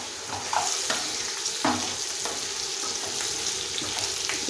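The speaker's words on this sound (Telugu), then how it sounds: "ఇప్పుడు ఈ మునక్కాయలు ఉన్నాయి కదండి, మునక్కాయలు కూడా ఇందులో వేసేస్తా." Drumstick pieces are added to a pan of spiced curry base for a South Indian buttermilk dish and stirred, giving a steady sizzle with a few scraping stirs, close and alone.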